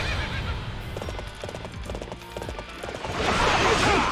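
Horse hooves clip-clop and a horse whinnies in the Warriors Orochi 3 Ultimate Definitive Edition video game, amid battle effects and a louder burst of noise near the end.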